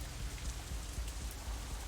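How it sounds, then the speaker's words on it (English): Steady rain ambience from the visual novel Katawa Shoujo, a continuous even patter of rainfall at moderate level with no voices. "It isn't even raining that hard anymore."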